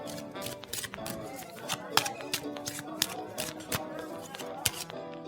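A pack of playing cards is shuffled by hand in rapid, crisp riffles and flicks, close and fairly loud, with a voice talking intermittently underneath.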